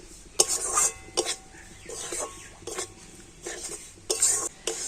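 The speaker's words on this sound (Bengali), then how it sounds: "তো আবার আমি একটু সবকিছু ভালো করে ভেজে নেব মানে সমস্ত কিছু একটু নাড়াচাড়া করে নিতে হবে" A spoon stirs and scrapes through frying ingredients in a pan for a sweet dish made with sugar and milk; clinking metal strokes come in irregular bursts, close and moderately loud, over a faint background hum.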